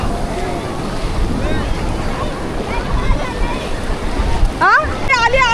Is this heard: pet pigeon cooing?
no